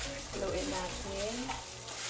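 Marinated pork and an egg stirred together for Filipino sweet and sour pork, giving a continuous wet, busy stirring and mixing noise over a faint wavering tonal sound. No one speaks.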